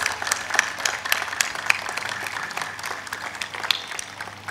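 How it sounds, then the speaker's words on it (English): An audience applauds at a school and PU college graduation ceremony, a sustained wash of many clapping hands with scattered sharper claps, fairly loud and without speech. "Let's give them a huge round of applause."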